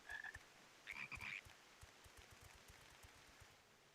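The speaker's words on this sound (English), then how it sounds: "just 3 frogs just chilling out looking around" Frogs croaking in Final Fantasy XIV, near Sharlayan: a short croak, then a cluster of two or three quick croaks a moment later, all faint against a quiet ambient background.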